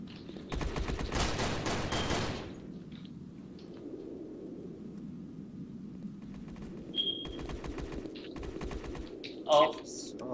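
Gunfire in a competitive first-person shooter match: a dense, rapid burst of automatic fire up front, then quieter scattered shots and game effects, with players talking over the action.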